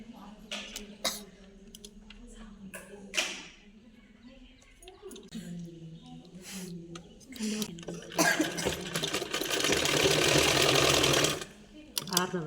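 A sewing machine stitches a half-inch seam on a blouse, starting in short bursts with someone talking over it, then running steadily and loudly for several seconds near the end.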